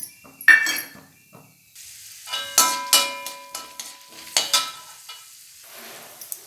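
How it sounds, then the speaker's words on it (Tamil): Crackling sizzle and sharp popping of mustard seeds frying in hot oil in a kadai, with occasional metallic clinks of a spoon against the pan. "ஒரு வானலில் 4 ஸ்பூன் எண்ணெய் ஊற்றி கடுகு போட்டு கடுகு பொரிஞ்சதும் கடலைப்பருப்பு போட்டுக்கலாங்க"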